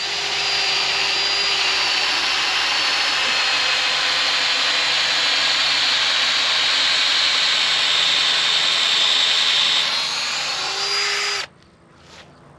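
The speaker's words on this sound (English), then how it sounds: "So we'll take our drill." A cordless drill boring a bale core sampler into a hay bale, a loud steady whine held for about eleven seconds with a slight pitch change near the end before it cuts off abruptly.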